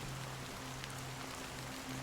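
Steady rainfall in the video game Honkai: Star Rail, a continuous close patter of drops on surfaces with a faint low hum underneath and no speech.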